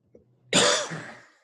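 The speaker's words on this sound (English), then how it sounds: "excuse my coughing." A single harsh adult cough bursts out close by, trailing off with a rough exhale after a faint throat sound just before.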